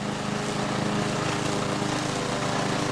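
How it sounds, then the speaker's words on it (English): A working tractor's engine runs outdoors in a field, a loud, steady drone with a constant throbbing rumble and no pauses. "Zoom right in on the tractor driver."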